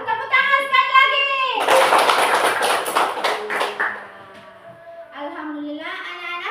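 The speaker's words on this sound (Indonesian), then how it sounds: "Ya, tepuk tangan sekali lagi." Children in a classroom clapping together, a dense burst of hand claps lasting a couple of seconds between stretches of a teacher's voice, close and fairly loud.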